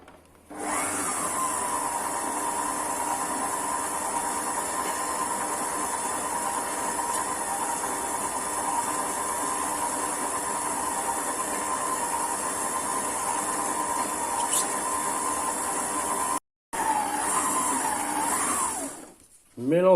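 Food processor at speed 1 mixes bread dough of organic T65 flour and corn flour with 35-degree water, a steady droning motor hum with a tonal whine that runs continuously, stops briefly, restarts and then fades out.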